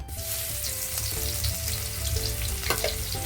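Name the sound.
grated garlic and curry leaves frying in hot oil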